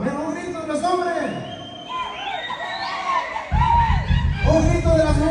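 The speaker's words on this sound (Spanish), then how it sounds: "A ver, un grito de los hombres." A crowd at a New Year's Eve Mixteco community dance in Richmond, Virginia, raising a loud shout and cheer; dense, excited voices swell and overlap close by, with a host talking over the crowd.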